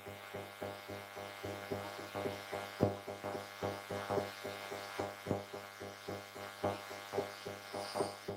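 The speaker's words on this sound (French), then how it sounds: "maintenant, on va rallumer l'imprimante et suivre les instructions comme un premier démarrage" A Creality Ender 3 V3 SE 3D printer powering up for a first start, giving a steady electrical hum with a fast, regular pulsing buzz from its fans or motors, close and moderately quiet, with no voices.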